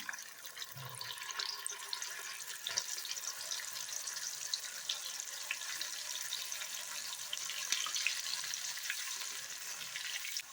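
Steady crackling hiss of field beans frying in hot oil for a mixture snack, continuous and fairly close, with faint scattered pops and no voices.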